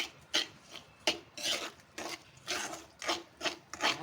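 Ground mustard and fenugreek powder being stirred into grated raw totapuri mango for tokku, giving repeated close, scraping rubs in an uneven rhythm, with no talking.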